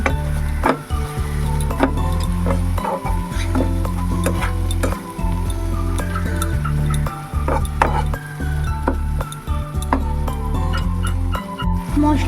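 Spices with salt and Kashmiri chili powder fry in hot oil for a doi katla fish curry, a loud steady sizzle running throughout under repeated wooden stirring scrapes and occasional clinks against the pan.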